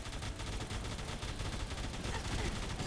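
Classic Gauss Rifle Mk72 firing in Fallout 4, a dense run of sharp electric-tinged shots packed close together, loud and continuous across the whole stretch with no pauses.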